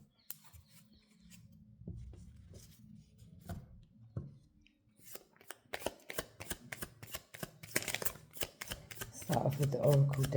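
Oracle cards being shuffled, a run of quick crisp riffling clicks that builds louder over several seconds, with a voice speaking softly during the shuffle.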